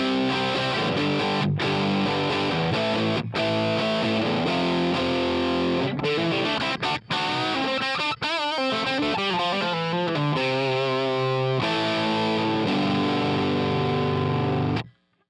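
Electric guitar recorded through Pro Tools amp models based on Marshall Super Lead Plexi heads, giving loud, distorted vintage rock chords. Sustained strums are broken by brief gaps, then a busier melodic passage follows before the sound cuts off at the end.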